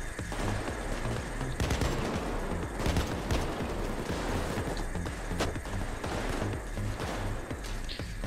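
Dense, continuous gunfire from automatic and single-shot weapons during a heist shootout in the video game PAYDAY 2, with sharp loud bursts layered over a constant roar of shots and no pauses.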